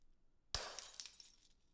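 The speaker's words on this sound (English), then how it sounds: "So broken glass sound." Glass breaking as a sound effect, one sudden bright shatter followed by tinkling fragments that fade over about a second, close and clear, with no voices.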